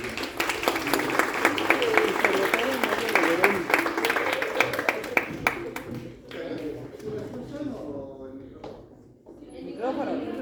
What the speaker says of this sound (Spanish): le damos una cordial bienvenida con un fuerte aplauso